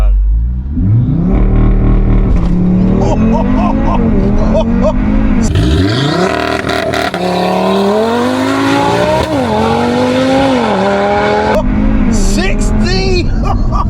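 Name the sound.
Stage 3 big turbo Audi RS3 accelerating 0 to 60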